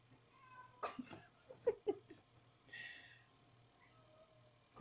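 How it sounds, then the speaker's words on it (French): Cat meowing indoors, a few short, faint chirpy meows and sniffs followed by a breathy sound, close but quiet over a low steady hum. "Coupe la parole, ce chat."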